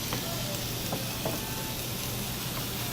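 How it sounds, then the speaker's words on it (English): Steady, dense sizzling of cubed chicken frying in a hot pan, a constant crackling hiss with a few faint clinks, close and moderately loud. "Oh, I hear the sizzle, that's good."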